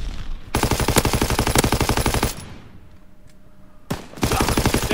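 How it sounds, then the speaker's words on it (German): Call of Duty WW2 machine-gun fire on the Gustav Cannon map: a loud, rapid burst of shots, a pause with distant fire, then another burst starting up. "Da schießt doch einer hinten."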